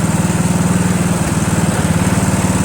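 Sabre John Deere lawn tractor engine with a hinky, freshly adjusted carburetor runs steadily nearby, a loud, continuous low mower-like throb with a fast regular pulse and no speech.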